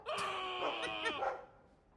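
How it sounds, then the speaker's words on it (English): Mabari war dog in the fantasy game Dragon Age II, giving a close, tonal, whining bark-howl that rises and bends over about a second and a half, then fades away, with no talk over it. "Happy bark!"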